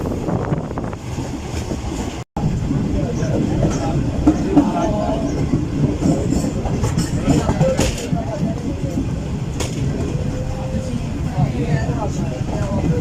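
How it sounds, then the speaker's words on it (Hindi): The 41 UP Karakoram Express runs on rails between Karachi and Lahore as it nears Hyderabad Junction, heard from the last coach. A loud, steady rumble and rattle continues with a brief dropout, and voices talk over it. "तकरीबन 6:13 पर हमारी ट्रेन पहुंच रही है हैदराबाद जंक्शन रेलवे स्टेशन पर।"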